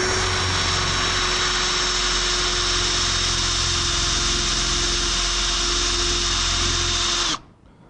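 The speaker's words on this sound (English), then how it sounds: "All right, let's drill." A handheld power drill boring a hole runs at a steady, loud, high-pitched whine for about seven seconds, then abruptly stops.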